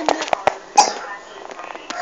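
A small child in a house coughs several times in quick, short bursts, close by, followed by quieter faint sounds.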